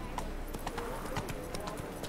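Geralt's horse Roach trotting in The Witcher 3, steady hoof clip-clops with a soft whinny, heard under quiet talking.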